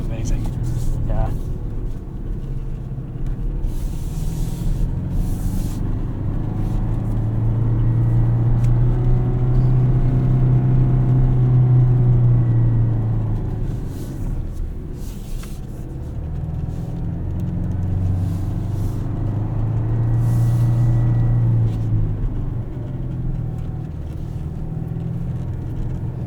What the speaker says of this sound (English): there's an off-road loop in the 2024 Toyota Tacoma TRD off-road 6-speed manual